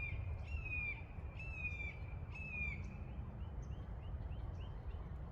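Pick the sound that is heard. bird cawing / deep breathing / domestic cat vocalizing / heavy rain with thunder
bird cawing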